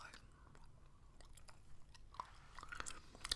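Soft, close wet chewing of gum with small smacks and clicks, quiet and intimate, with a faint whispery background.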